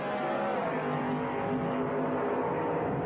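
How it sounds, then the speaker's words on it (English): A dragster and a full-bodied car race side by side at a 1979 NHRA Division 6 drag strip event in Edmonton, with a continuous loud engine roar heard from a distance. "full body car getting the head start over the dragster"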